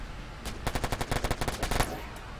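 Machine gun fire in the online video game Warfare Online: a loud, rapid burst of about a dozen shots lasting over a second, close and alone without talk.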